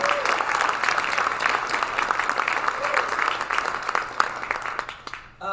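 Theatre audience applauding after a live Christmas concert, a sustained crowd clapping at moderate distance with faint voices mixed in, tapering off at the end.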